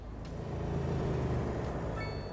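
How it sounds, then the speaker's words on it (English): Highway traffic ambience from the city-building game Cities Skylines 2, a steady wash of vehicle rumble and road noise filling the whole stretch, with a brief high squeal near the end and no speech. "That was the sound of the traffic, just for a bit of ambience."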